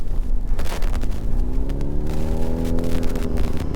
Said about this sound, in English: you give it the tiniest bit of throttle if you want